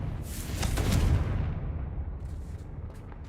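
Confringo explosive spell blasting in Hogwarts Legacy, a single rumbling boom swelling near one second and slowly fading out, heard alone without talk.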